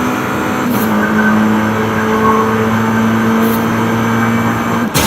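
A 2.4 liter 4-cylinder car in a Forza drag race, engine droning loud and steady as revs climb through a long pull, with short breaks at gear shifts.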